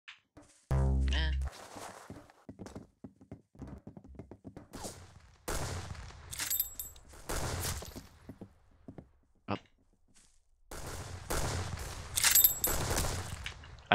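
Video game gun firing in bursts, loud rapid shots that recur across the clip, with a player talking over the gunfire.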